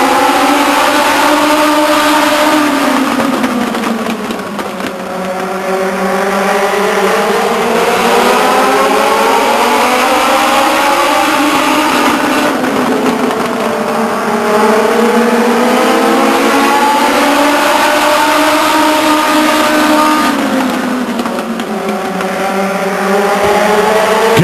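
Legends race cars howl around the Stockton 99 Speedway oval, several engines droning loudly together and rising and falling in pitch as the pack circles, continuous with no gaps.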